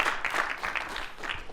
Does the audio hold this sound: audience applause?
yes